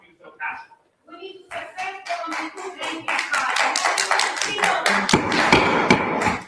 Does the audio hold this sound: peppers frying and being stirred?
no